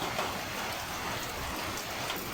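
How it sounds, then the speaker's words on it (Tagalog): Rain falling on a gloomy Tuesday morning near a calm sea, a quiet, even hiss of drops that stays steady and faint from start to finish. "napaka kulimlim at ayan, ang ulan na nga mga milyones. Alright, maulan."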